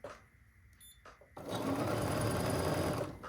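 A sewing machine stitches rail fence quilt blocks together. A soft hum and a couple of clicks come first, then the motor runs loud and steady for about two seconds before slowing.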